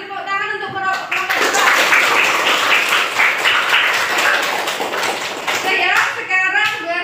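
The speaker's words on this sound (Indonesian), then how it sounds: "Beri tepuk tangan untuk kelompok 2." A classroom group claps for the winning team, a dense burst of applause lasting several seconds, bracketed by a teacher's voice at the start and end.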